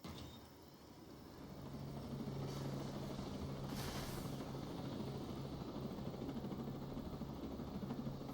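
A helicopter in the video game Ghost Recon Breakpoint drones with a continuous low rotor thrum that swells louder after a quiet start, with a brief brighter rushing burst in the middle as the rotors strike something.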